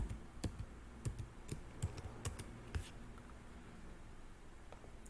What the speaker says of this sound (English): I think I typed it wrong.